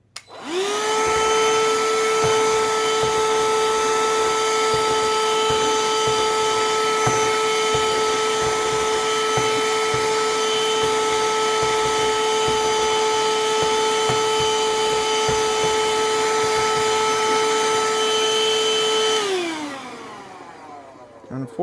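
A Parkside cordless vacuum cleaner runs for about twenty seconds with a steady, loud whining motor hum during a suction test on screws, then winds down as it is switched off.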